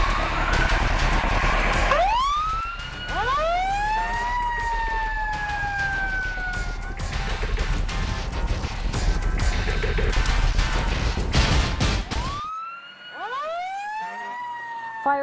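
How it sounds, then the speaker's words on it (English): A fire truck siren wails loudly and close, rising and falling in sweeping tones over rumbling engine noise, cutting off briefly near the end before another siren sweep resumes. "Fire trucks like this blare their sirens and race to the fire"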